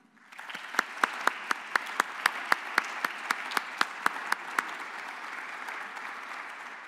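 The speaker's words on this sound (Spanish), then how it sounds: "recibamos con merecido aplauso" An audience applauds to welcome a lecturer at an astronomy talk, with a steady wash of clapping and sharp individual claps standing out at regular intervals before the applause carries on evenly.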